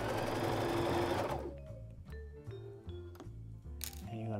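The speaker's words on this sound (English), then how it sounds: "This lever, you wanna throw it down on the fabric, and then you are ready to start sewing." A sewing machine stitching a dress shirt being tailored at home gives a dense mechanical hum for over a second, then slower rhythmic needle thumps with small metallic clicks, close and steady, with no talking.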